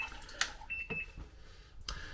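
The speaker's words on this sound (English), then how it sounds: "And you'll hear the beeping sound." A TOTO Washlet bidet seat's control panel gives one short electronic beep, with faint handling and water-like noise around it and no talk.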